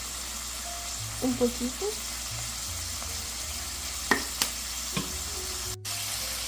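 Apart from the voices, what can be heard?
ground beef frying in a pan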